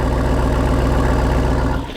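A V8 Ram truck engine idling close by, a steady loud low rumble with a regular lumpy pulse throughout, easing off slightly at the end.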